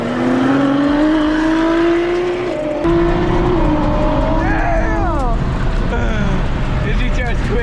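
A Nissan GT-R with upgraded turbos races, its engine droning loudly with a rising pitch and shifting tones as it accelerates, heard close with road and wind roar throughout.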